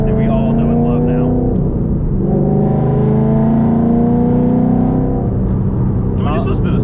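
A 2014 Mustang GT Track Pack with its V8 engine revs up and settles, its loud deep rumble rising and falling close by while people talk over it.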